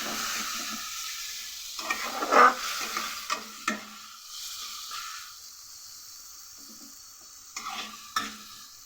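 Spice paste of turmeric and ginger-garlic with a little water being fried and stirred in a pan, a steady soft sizzle broken by a few clear spoon scrapes and knocks against the pan, close and moderately quiet.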